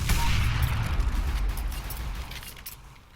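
Rapid bursts of gunfire from the video game Counter-Strike, loud and close at first, then fading into scattered shots.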